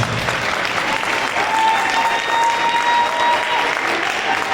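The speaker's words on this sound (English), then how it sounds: "Round of applause." Middle school concert audience giving steady, full applause that holds evenly throughout, dense and close with a faint murmur beneath.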